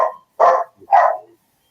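A small yappy dog gives three sharp barks close by, with brief silent gaps between them.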